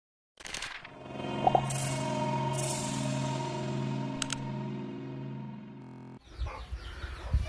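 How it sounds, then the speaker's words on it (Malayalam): Three mother hens cluck steadily with their chicks in a coop, a close continuous murmur of clucking with a few sharper peeps and calls, ending in a short burst of rustling and scuffling. "ഇതിനകത്താണ് അമ്മമാരും കുഞ്ഞുങ്ങളും ഉള്ളത് മൂന്ന് കോഴികളും അതിൻ്റെ കുഞ്ഞുങ്ങളാണ് ഇതിനകത്തുള്ളത്"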